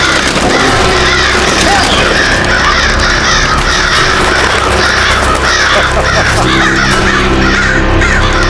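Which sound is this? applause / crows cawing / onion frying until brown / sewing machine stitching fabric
crows cawing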